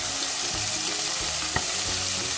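Canned sweet corn frying in a pan, a constant close sizzle with brief stirring scrapes and clicks, no voices.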